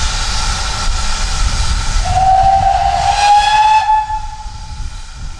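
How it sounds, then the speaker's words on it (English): A steam train lets out a loud, sustained whistle over a heavy hiss of steam as it departs a request stop, the tone rising slightly and then cutting off, close by with no talking. "There goes the train that stops just for the two of us to get off"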